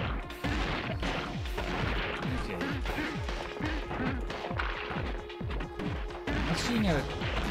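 Bombs burst in the retro game Gato Roboto, a rapid string of sharp, punchy blasts and crashes repeating for several seconds alongside chiptune music and other game effects.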